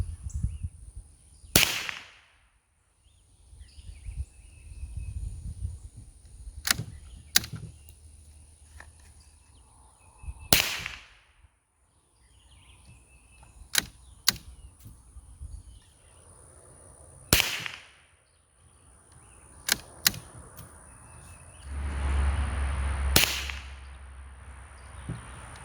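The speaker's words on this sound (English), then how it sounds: "let's fire those groups and see what happens" .22 rimfire rifle firing Fiocchi Performance Subsonic ammunition, about eight sharp cracks spaced irregularly over the span, some single and some in quick pairs, with quiet handling and outdoor ambience between shots.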